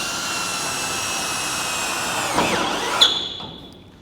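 A power drill drives screws through a clip on standing seam metal roofing, one loud steady whirring run that bogs down and ends in a sharp clack before fading out.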